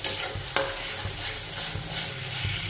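Lightly salted egg sizzles loudly in a frying pan as a utensil stirs and scrapes it, steady frying hiss with occasional clacks against the pan.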